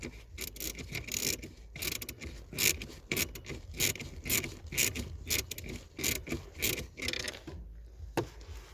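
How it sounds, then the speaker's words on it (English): Ratcheting socket wrench with a 10 mm deep socket turning a car's foot parking brake adjustment nut, a quiet, rapid run of clicks and scraping metal with no talk. "You'll need a 10 mm deep socket in order to get to that adjustment nut."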